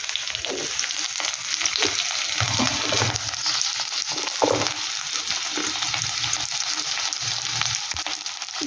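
Green chillies frying in a pan for a pointed gourd (potol) mash, a steady close sizzle with occasional stirring scrapes throughout, no talking.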